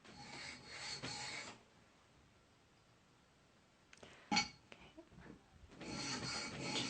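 An oboe reed knife is drawn across a sharpening stone to raise a burr, a few close, quiet rasping strokes in two bursts separated by a near-silent pause with small clicks.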